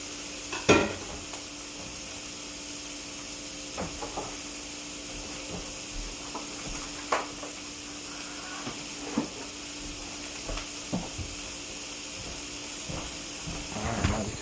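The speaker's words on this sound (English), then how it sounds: "we got all our sausages cooking" Cheddar smoked sausages sizzle in a pan with a steady close hiss, broken by scattered clicks and scrapes of stirring.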